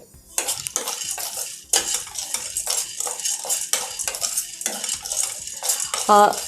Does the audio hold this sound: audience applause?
no